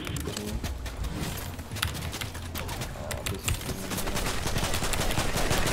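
Rapid gunfire from shooting in the video game Fortnite during a trio cash cup match, a steady busy stream of sharp cracks and bursts with no talking.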